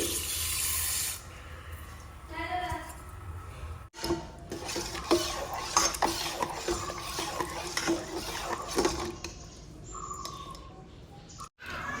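A metal spoon stirs milk cooking in a pot for payesh in a home kitchen, producing continuous scraping and clinking against the pot with a faint bubbling wash behind it and birds chirping faintly in the background.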